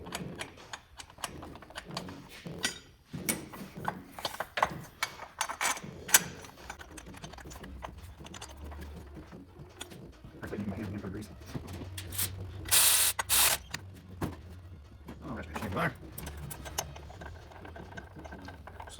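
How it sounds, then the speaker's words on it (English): A ratchet wrench runs bolts back in during a water pump replacement on a 2015 Chevy Cruze, giving bursts of close, rapid clicking with some scraping and handling noise between them. "we'll get them back with a ratchet wrench"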